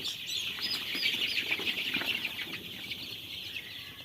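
Sonali chicken chicks on a farm chirp continuously in a dense, high-pitched chorus, many birds peeping at once, close and steady with no talking.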